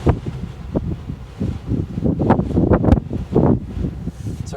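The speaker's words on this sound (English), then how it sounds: "Sorry about the wind." Wind buffets a microphone outdoors, rumbling low gusts that swell and rustle in uneven bursts, fairly close and moderate in loudness, with no speech.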